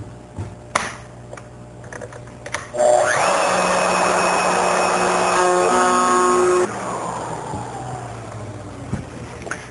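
A router bit cuts into wood to excavate a tray, starting with a sudden loud whirring grind after a few light clicks. It holds steady for several seconds, then eases to a lower hum as the tool winds down.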